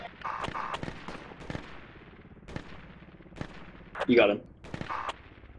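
Scattered gunshots in the Project Reality military shooter, several sharp reports at irregular intervals, some distant, with one louder, heavier blast, under low game noise and occasional voice chatter.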